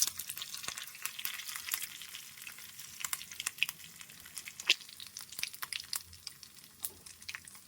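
Curry leaves, asafoetida, garlic and cumin fry in hot oil for a wedding-style sambar, giving a steady crackling sizzle with dense spitting pops and occasional stirring scrapes, close and continuous with no talking.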